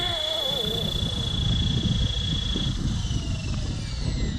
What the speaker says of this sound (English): It's a bit of a strong wind here.